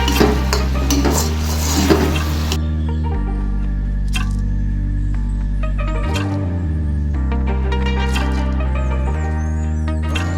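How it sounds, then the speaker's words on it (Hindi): Chicken jalfrezi stirred in a pan after chili and soy sauce go in, steady scraping and clinking of a spoon against metal with a soft sizzle, close and continuous. "अब इसे अच्छे से मिक्स करेंगे"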